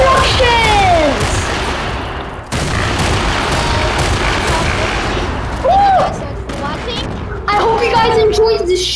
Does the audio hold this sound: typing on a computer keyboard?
no